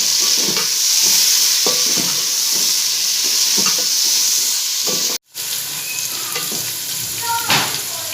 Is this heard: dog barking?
no